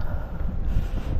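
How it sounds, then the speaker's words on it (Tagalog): Strong cold wind buffets the microphone on the peak of Mount Kitanglad, a steady low roar with gusty rumbling and no other sounds. "Yung hangin di makaya"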